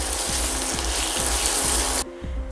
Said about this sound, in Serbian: To sve sada promešam i pržim još jedno 3 do 4 minuta.